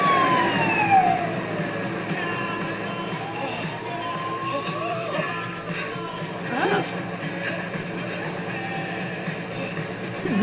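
A police car siren wails loudly up close with a rising and falling tone, mixed with crowd noise and engine rumble for about ten seconds.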